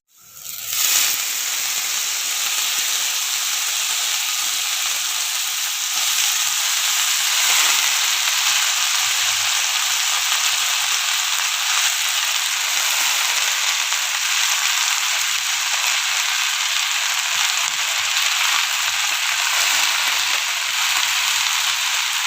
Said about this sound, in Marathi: तर आता मी भाजी टाकत आहे.